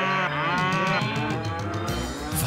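A cow moos in a long, drawn-out low call with a sliding pitch, fairly close and clear, with no talking over it.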